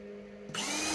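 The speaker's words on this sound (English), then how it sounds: "I'm just gonna drill out these holes." A power drill bores holes for a small shop dust collection setup, a faint motor hum that abruptly jumps to a loud, bright whirring grind halfway through, close and with no talking.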